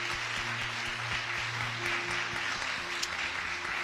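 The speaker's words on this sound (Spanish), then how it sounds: "Denle un aplauso fuerte al Señor esta mañana" Congregation applauding during a Spanish-language Sunday church service, a steady wash of clapping over sustained organ or keyboard tones and a low musical hum, continuous and fairly distant throughout.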